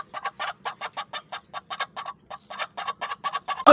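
Broody Aseel hen clucking in short rapid bursts, a close string of clucks that stops briefly and then resumes, loud against a quiet background.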